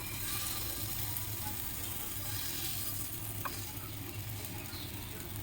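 Pancake batter sizzles on a hot oiled griddle as a faint, steady hiss with a few small ticks.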